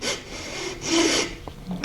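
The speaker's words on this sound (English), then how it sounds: "For this, I just got a chainsaw file that I use." A round chainsaw file rasps against an Osage orange wood selfbow in two or three short, close strokes, a dry scraping sound with brief pauses and a light tap near the end.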